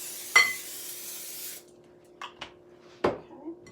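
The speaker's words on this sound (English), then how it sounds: "you have to spray these wells with cooking spray" Cooking spray hisses into the wells of a donut pan in one burst of about a second, followed by a few faint clicks and taps from the can and pan.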